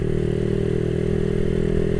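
Suzuki Satria FU 200cc motorcycle engine running steadily and loud, a close, even mid-pitched drone with a buzzing harmonic whine and no rise in revs, heard alone.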